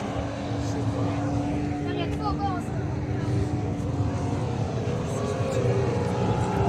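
A speedboat engine on the sea off Giftun Island in Egypt drones and whines steadily throughout, pitch shifting slightly as it moves, with voices faintly in the background.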